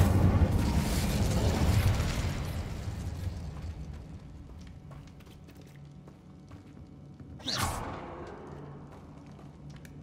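Incendio fire spell in the Hogwarts Legacy game, a roaring burst of flame that fades over a few seconds, followed by a sharp whooshing flare later, with no talk.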